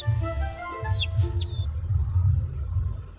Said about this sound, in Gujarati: ચકલી નાની અને ચપળ હોય છે. તે ચી ચી અવાજ કરે છે.